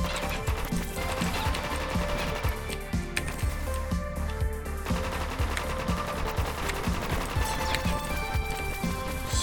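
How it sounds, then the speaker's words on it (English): Submachine gun fire in the sci-fi video game Space Robinson, rapid sharp bursts of shots mixed with impacts over a busy game soundtrack, loud and dense throughout. "Submachine gun. It's a submachine gun."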